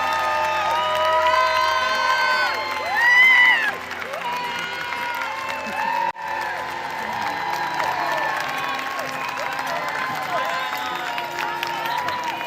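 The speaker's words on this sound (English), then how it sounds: "let's give one more round of applause to the class of 2026." A crowd applauds and cheers for the graduating class of 2026 at a Leander ISD Board of Trustees meeting, with steady clapping, scattered whoops and shouts, and a brief louder swell of cheering early on.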